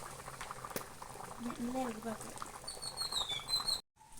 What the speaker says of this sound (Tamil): நல்லா கொதிச்சு நல்லா வடிவா வந்துட்டு நல்லா கும்முள் கும்முளாக வருது